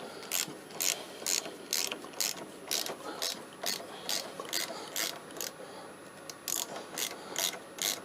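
Ratchet wrench working the brake pad pin on a Honda NC700X motorcycle, with loud, close, evenly spaced clicking pulls repeated about a dozen times.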